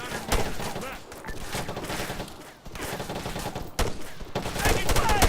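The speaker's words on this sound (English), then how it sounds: "Taking fire! Under fire!" Rapid bursts of gunfire crackle in a video game firefight, repeated volleys with short gaps, loud and close, mixed with game sounds.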